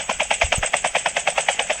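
A helicopter in the mobile game Call of Duty Mobile gives a rapid, even rotor chop, about eight beats a second, loud and close and steady throughout, with a couple of low thuds early on and no speech.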